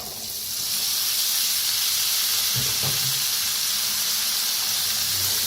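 Bitter gourd tipped into a hot pan of spices and coriander powder gives a steady, close frying sizzle with a brief stirring clatter midway, no voices.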